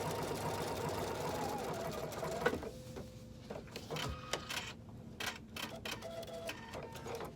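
Sewing machine running a triple straight stitch with standard thread through a cork handbag panel, a steady close whir for over two seconds, then shorter start-stop bursts with clicks and ticks of the mechanism.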